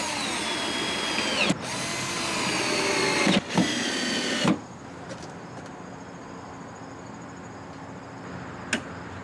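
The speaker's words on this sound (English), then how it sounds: "Fortunately, this also has screw holes, so I can just put screws directly through this part of the arm and mount it that way" A power drill drives screws through the mounting arm of a UeeVii CPE5824 wireless network bridge, whirring steadily for about four seconds with brief gaps before the room falls quiet.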